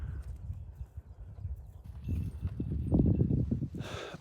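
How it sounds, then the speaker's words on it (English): A horse's hooves clip-clop along outdoors, a loose run of close knocks that grows louder and denser toward the end, with a brief brighter burst at the close. "Nice looking horse, by the way."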